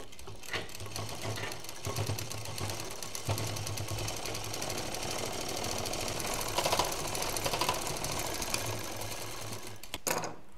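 A double-needle sewing machine stitches a college bag. Its rapid mechanical chatter runs continuously and close up, with slight changes in speed and a few louder knocks, and no one speaks.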